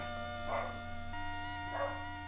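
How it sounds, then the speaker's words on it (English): A dog gives two faint, separate barks about a second apart in the background, partly masked by steady electronic video-game music. "And the dog's barking."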